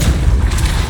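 A Depulso spell cast in Hogwarts Legacy, a single deep, loud whooshing boom that fills the moment with heavy low rumble.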